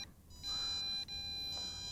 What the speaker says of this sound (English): Listen to beep too. It beeps also.